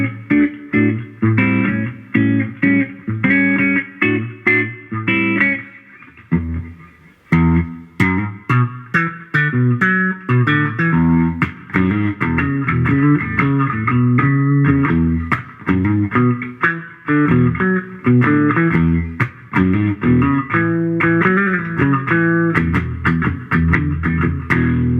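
Electric guitar, a Schecter Corsair through a Pod Go with light overdrive and reverb, chords and single notes ringing out steadily and loudly with no talking.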